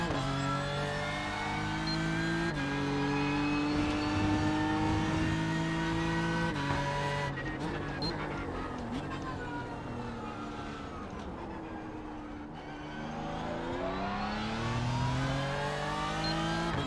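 Race car engine in a NASCAR Next-Gen video game, revving and shifting with rising and falling whine, loud and continuous throughout, with faint talk underneath.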